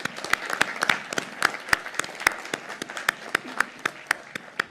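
Sparse, scattered hand claps from a modest audience at a 2021 college commencement ceremony, individual sharp claps spread steadily across the moment at moderate distance.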